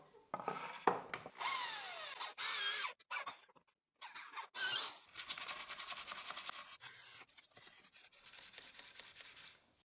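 A hand drill with a 3.5mm bit bores into wood in a simple woodworking project, giving short bursts of high whirring and grinding with rising and falling pitch, broken by several brief pauses.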